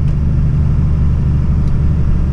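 A Cummins 3500 diesel fitted with GSK 3000rpm governor springs, heard from inside the truck as a loud, steady low rumble with constant engine drone and no talking.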